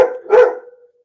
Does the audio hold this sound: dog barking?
yes